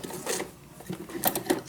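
A sewing machine stitches through a fabric journal cover trimmed with rickrack, giving a short, close burst of rapid mechanical chatter with slight uneven pulses.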